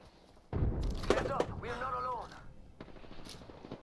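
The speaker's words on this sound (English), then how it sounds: "You didn't just use the shotgun that you just reloaded?" A loud, close shotgun blast in a video game, followed by a mechanical clatter and a fading rumble, with people talking over and around it.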